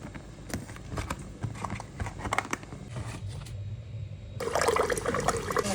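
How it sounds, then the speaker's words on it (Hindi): Water pours into a pot of cooked spices before rice goes in, a rushing splash that starts abruptly after stirring and scraping sounds in a home kitchen. "मसाले में हम राइस के लिए पानी डाल देते हैं"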